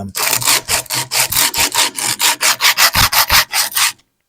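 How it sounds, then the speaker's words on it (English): Emery cloth sanding a steel knife blade, a rough rasping scrape repeated in about twenty quick, even back-and-forth strokes, close and loud, ending abruptly in silence. "I think they call it emery tape or emery cloth or whatever they call it"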